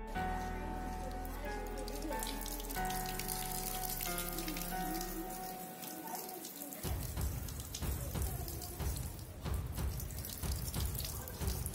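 Green-dyed water streams out of two holes in a balloon, making a steady, loud rush and splash that continues throughout.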